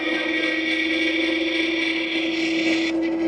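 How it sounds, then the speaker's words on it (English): A WALLKE H7 AWD electric bike's finned headlight vibrates while riding, giving a faint, steady buzzing whine that holds an even pitch for several seconds. "I think you get a little vibration out of that headlight."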